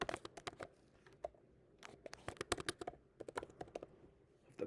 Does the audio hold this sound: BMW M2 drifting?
no